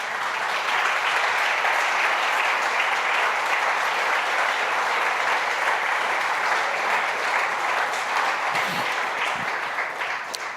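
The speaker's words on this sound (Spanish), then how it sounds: "Denle un aplauso al Señor." Church congregation applauding steadily for about ten seconds, a dense wash of many hands clapping with no break, fading slightly at the end.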